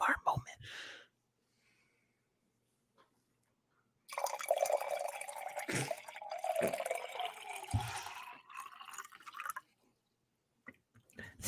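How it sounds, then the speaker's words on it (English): Water poured into a cup in a quiet room, a trickling, splashing flow lasting several seconds, close and soft, with breathy whispering before it. "I'm going to pour a little water"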